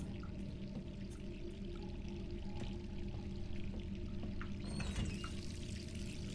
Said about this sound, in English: Why would I leave the water running?